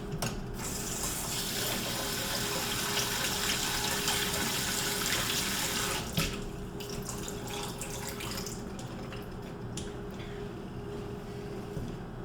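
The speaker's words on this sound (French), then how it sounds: "Tout ce que j'ai fait, c'est de passer de l'eau rapidement. Mon robinet, j'ai une tête qui fait un peu comme une douche." Water runs steadily from a kitchen faucet with a shower-style spray head, rinsing jalapeño peppers in a sink. The hiss is continuous and fairly loud, then drops slightly in level after about six seconds and carries on alone.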